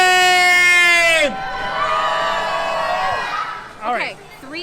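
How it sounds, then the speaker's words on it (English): A crowd at the Cedar Point HalloWeekends Freak Show screams in response, following a long amplified shout from a host. The crowd shouting is loud and close, then trails into a few scattered whoops. "HalloWeekends, everybody scream!"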